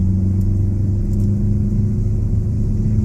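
Race car engine driven flat out at Circuit of The Americas during a ChumpCar endurance race, a loud steady low-pitched drone that holds constant throughout with no speech over it.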